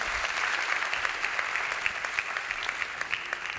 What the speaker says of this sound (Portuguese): Um aplauso para o nosso convidado.